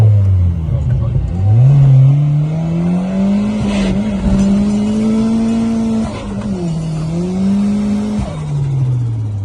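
Turbocharged Honda Civic EG8 engine accelerates hard near the listener, its loud revving note climbing steadily with brief dips between gear changes.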